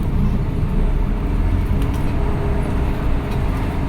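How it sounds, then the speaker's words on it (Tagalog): A bus pulls away in the morning, heard from on board as a loud, steady low engine rumble and road noise with faint rattles, no voices over it. "Ayan guys, alis na yung bus."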